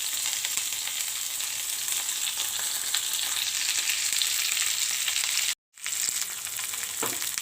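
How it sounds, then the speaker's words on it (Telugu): Onion pieces and curry leaves fry in hot oil with a continuous bright sizzle that holds steady and close, broken once by a short gap, then resumes with a faint stirring knock and no voices. "ఆయిల్ వేడెక్కింది. ఇప్పుడు ఉల్లిపాయ ముక్కలు వేసుకుందాం."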